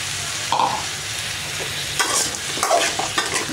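Pumpkin pieces sizzle and crackle as they are stirred into a frying Tamil-style yellow pumpkin curry in a pan, with a steady close sizzle and occasional scraping stir sounds, no talking.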